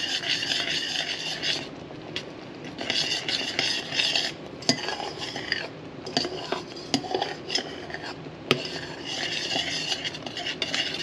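Melted sugar syrup coming to a boil for mushroom candy, stirred with a utensil against the pot in repeated scraping, clinking strokes over a low bubbling hiss.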